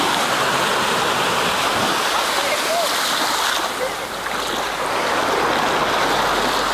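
Powerful sea waves surging and crashing near a beach restaurant, a loud continuous broadband roar and wash with no clear breaks, close and steady throughout.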